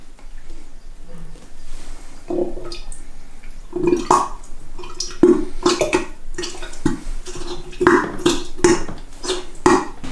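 Thick, gloopy malt extract poured during home beer brewing, giving slow wet glugs and drips with soft splashes and occasional clunks of the container, close by and irregular over the whole stretch.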